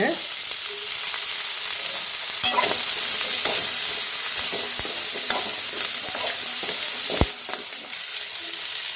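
Pepper kuzhambu, a Tamil medicinal curry, simmers and sizzles in a pan while being stirred, with a steady bubbling hiss and scattered scraping clicks throughout, close and moderately loud, no voices.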